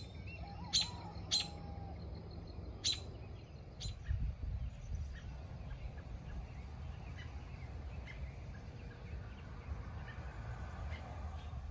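A robin chirping near a blackberry-lined fence, a few sharp bright calls early on, then fainter chirps over low outdoor background noise.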